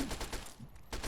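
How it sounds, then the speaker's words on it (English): A laser pistol fires in Fallout 3 as a short, quick run of pulsing zaps packed closely together, fairly faint and lasting about a second. "I think the laser pistol works good against these guys"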